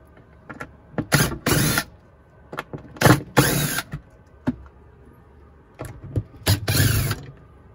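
Screws being removed from a solar charge controller with a power driver, three separate bursts of whirring and ratcheting spaced a few seconds apart with small clicks between, close and fairly loud.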